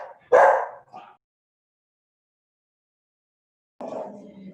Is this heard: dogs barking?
yes